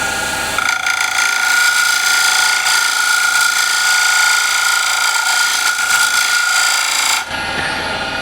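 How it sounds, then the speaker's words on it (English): Wood lathe spinning a bowl while a standard scraper works the inside rim, a continuous loud, gritty scraping hum with a steady tonal whine that stops abruptly near the end. "So start the lathe, and just to show you, I'm just quickly going to scrape here the rim."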